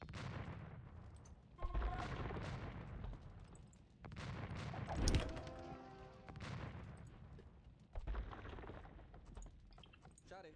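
Hand cannon volleys pop in a strategy game battle between skirmishers and hand cannon units, several distant booming shots scattered across the clip beneath a commentator's talk.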